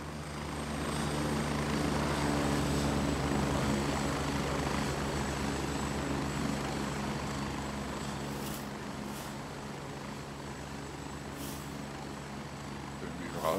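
A video game helicopter in Gray Zone Warfare drones steadily with a low rotor thrum and engine rumble, loud and constant, with faint crackles near the end.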